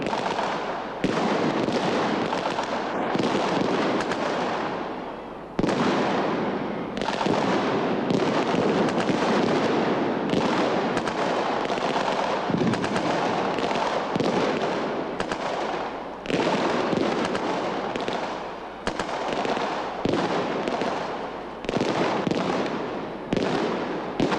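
A simulated battle display at the Royal Tournament, with commandos attacking and a vehicle giving fire support, fills the air with sustained rapid gunfire and explosions in loud bursts broken by short pauses.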